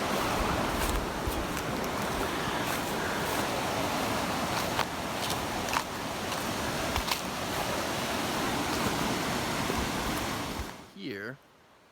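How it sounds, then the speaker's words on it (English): A river at a property border in Ecuador flows with a loud, continuous rushing wash close by, which ends abruptly near the finish as a brief sound cuts in. "Beautiful river, that's the border to the land."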